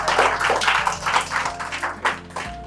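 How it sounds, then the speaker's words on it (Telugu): Audience applause at a children's Shivaji and Shambhaji costume contest prize event: a short, lively round of clapping from a crowd, close and steady, fading out after about two and a half seconds. "ఒక్కసారి క్లాప్స్ కొట్టండి"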